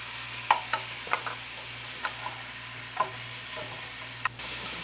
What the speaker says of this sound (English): Putting our raw vegetables into the pan first.